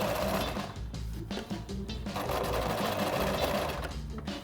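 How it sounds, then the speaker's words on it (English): A sewing machine runs steadily, understitching a seam allowance to the facing of a keyhole opening on a Mary Quant-style minidress, its rapid mechanical needle rattle loud and continuous with brief dips in speed. "I'm just going to stitch within the seam allowance to anchor the seam allowance to the facing"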